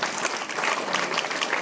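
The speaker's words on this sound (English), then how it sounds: "Let's have a round of applause for Bill, because" Dense, even applause from an audience at a news staff reunion presentation, a short burst of many hands clapping together at moderate loudness with no talk over it.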